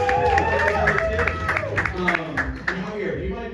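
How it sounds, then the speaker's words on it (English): Audience at a live comedy show applauds its contestants, a steady wash of clapping running under talk and crowd chatter throughout. "Round of applause for our contestants up here."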